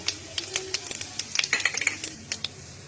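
Whole spices hit hot oil in a pan, crackling and spluttering in quick, irregular pops close by, with light clinks of a utensil over a low background hum.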